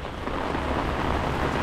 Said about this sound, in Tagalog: Tuloy-tuloy ang ulan hanggang mamayang gabi pa to.